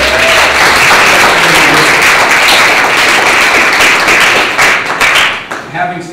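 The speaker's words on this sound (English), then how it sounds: "let's give Larry a round of applause" An audience applauds a speaker named Larry at a lecture program, loud sustained clapping from a full room that thins out toward the end.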